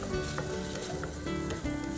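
Chopped onion and celery sizzle steadily in a hot pan, a constant close hiss that holds even throughout, with tonal background music underneath.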